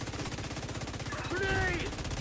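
Video game gunfire pops in a fast, steady rhythm under a busy battle soundscape, with a brief tonal whine rising over the shots midway.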